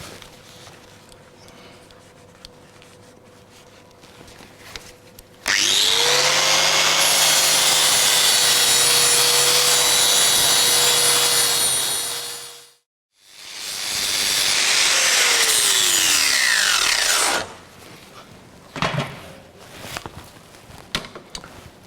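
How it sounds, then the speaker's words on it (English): A flat grinding disc dressing a weld along the top of a workpiece in a welding workshop, two loud sustained hissing grinds of about seven and four seconds, each winding down, with a short pause between and quiet before and after. "I can start dressing the weld. I'm going to use a flat disc for this along the top there to begin with."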